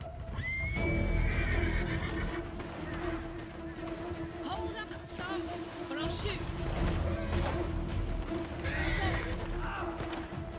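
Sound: horse neighing in a Red Dead Redemption 2 roleplay video game

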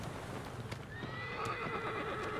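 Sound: horse Agro neighing and trotting, Shadow of the Colossus video game

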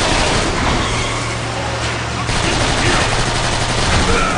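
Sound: weapon gunfire in the video game Transformers: Fall of Cybertron

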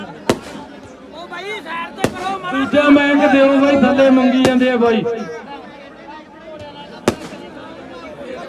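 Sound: firecrackers exploding

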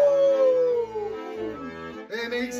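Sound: voice imitating a wolf howl

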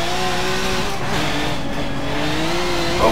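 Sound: Group 5 race car accelerating in the video game Forza Motorsport

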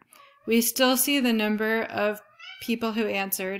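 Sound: cat meowing

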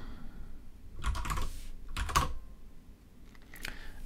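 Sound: typing a command on a computer keyboard

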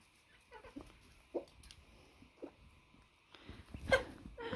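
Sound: hens clucking while fighting over pecking order

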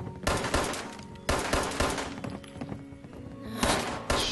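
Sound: gunfire in the video game Fallout 76

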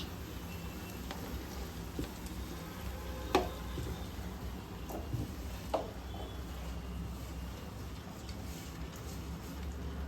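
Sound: curry leaves frying in a pan

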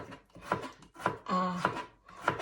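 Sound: knife slicing cucumber for stir-fry

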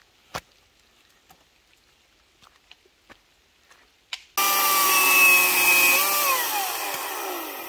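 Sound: chainsaw cutting a fallen tree branch

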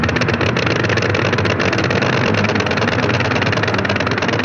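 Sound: early aircraft engine running, from a documentary on aviation history

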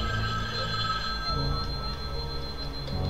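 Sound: telephone ringing in Halloween fan-made video game

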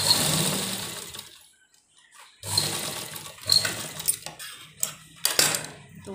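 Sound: sewing machine stitching kurti neck strips

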